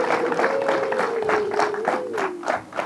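Wedding guests applaud in a steady run of rhythmic clapping, with a sustained tonal voice or instrument line carrying over it.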